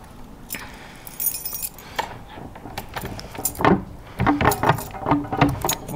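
Keys jangling and clinking on a ring nearby while the right one is sought at a door, with irregular metallic chinks growing busier and louder toward the end.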